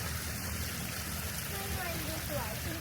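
A garden waterfall pours in a steady, broadband rush that continues throughout, with a voice speaking faintly beneath the water noise.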